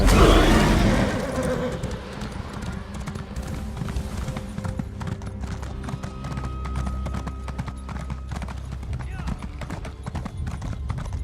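In The Elder Scrolls Online, a ridden horse's hooves clip-clop steadily, with a brief whinny or burst at the start, and a person talks over the hoofbeats.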